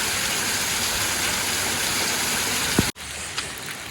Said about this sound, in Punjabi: ਇੰਨਾ ਤੇਜ਼ ਮੀਂਹ ਲਗਾਤਾਰ ਪਈ ਜਾਵੇ ਪਈ ਜਾਵੇ